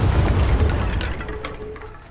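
A Bombarda spell blast goes off in the video game Hogwarts Legacy: a single loud, close boom with heavy low rumble that rolls on and slowly fades, with scattered debris crackle and no talking.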